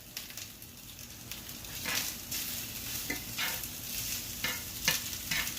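Onions and already-cooked smoked brisket being stirred in a pan, steady sizzling and frying with repeated scraping strokes of the spoon, close and continuous with no talk.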